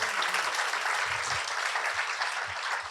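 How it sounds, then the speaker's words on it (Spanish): A church congregation claps together in a dense, even wash of applause that holds steady for three seconds without talking. "un aplauso grande para ellos de parte de toda la iglesia"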